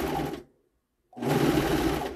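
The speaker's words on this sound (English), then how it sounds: "So I'm just going to serge." Serger overlocking the raw edge of stretchy fabric for a dog bandana: a loud, fast whirring stitch run that stops for about half a second and then starts up again.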